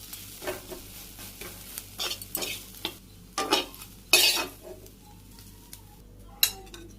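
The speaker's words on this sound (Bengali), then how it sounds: "নাড়াচাড়া করে ভালো করে ভাজি করে নিই।" Vegetables with salt, turmeric and chili powder are stir-fried in a pan, with rhythmic spatula scrapes and stirs over a gentle sizzle and a few sharp metallic clanks.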